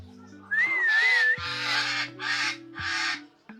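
Parrots in a zoo aviary at a deer park eco zoo give several loud, harsh calls in close succession, including one rising and falling whistle-like note, with no talk.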